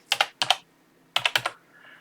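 Two short bursts of keystrokes on a computer keyboard, a few close, crisp taps each with a brief gap between, in a quiet room.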